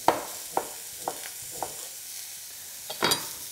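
Thinly sliced ginger drops into a hot pan of apples and onions, giving a soft, steady sizzle broken by a few sharp clatters and scrapes, with no talking.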